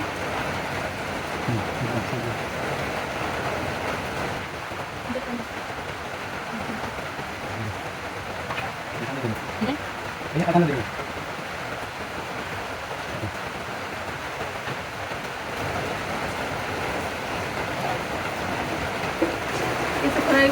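Heavy rain falling at night outdoors during line fishing for snakehead fish, a steady dense hiss that fills the whole stretch, with someone talking over it.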